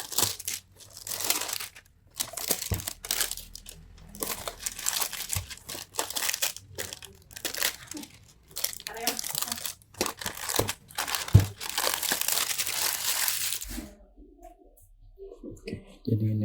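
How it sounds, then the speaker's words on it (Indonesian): Crinkling and tearing of plastic packaging around a warranty card for an Altec Lansing ALGS9805 soundbar, a long run of close, busy crackles and rips ending in quieter handling. "tinggal kita sobek."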